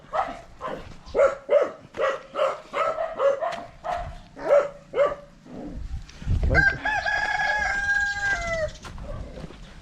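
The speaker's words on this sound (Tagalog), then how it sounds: "Grabe, aggressive yung aso nito." An aggressive dog on a farm in Bolinao, Pangasinan barks in a rapid, rhythmic string of loud, close barks for several seconds, then a rooster crows nearby.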